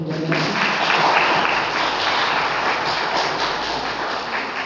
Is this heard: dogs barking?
no